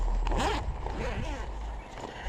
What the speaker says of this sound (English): let's unzip it here